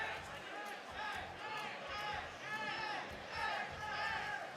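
A crowd at a Beyblade Burst tournament in Orlando cheering in surges, rising and falling shouts under a commentator's voice throughout, heard from a moderate distance.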